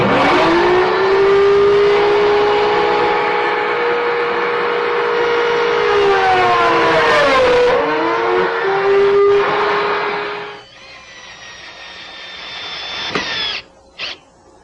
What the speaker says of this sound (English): So we'll cut the slots first.